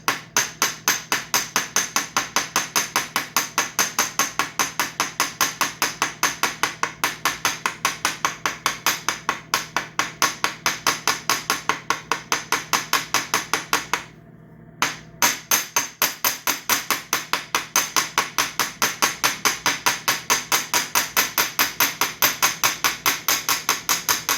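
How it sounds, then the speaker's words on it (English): Steady, rapid metal-on-metal hammer blows ringing sharply, one hammer striking another in a continuous even rhythm, loud and close, with one brief pause. "somebody's gonna fuss about me striking one hammer with another hammer"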